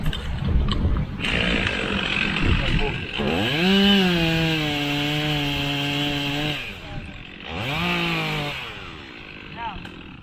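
A chainsaw bores into a log outdoors, its engine rising to a steady, loud, high whine through the cut, easing off, then revving again in a shorter second burst, with a little talk at the start.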